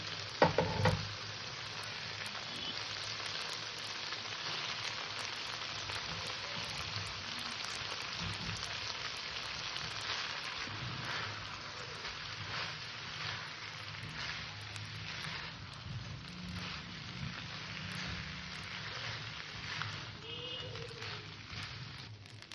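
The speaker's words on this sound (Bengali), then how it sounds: "চালটাকে ভালো করে মিশে হালকা নেড়ে চেড়ে নিয়েছি" Washed rice being stirred and fried with braised mutton in a pot for pulao, a soft continuous sizzle with faint scraping, fairly quiet and without any voices.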